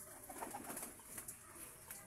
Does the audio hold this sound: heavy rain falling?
no